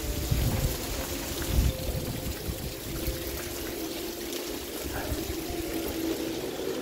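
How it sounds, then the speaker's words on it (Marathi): Steady rain falls outdoors at a hill retreat in Lonavala, a dense, even hiss of drops spattering on surfaces, with a faint voice briefly under it. "तर हा मस्तपैकी असा पाऊस चालू आहे."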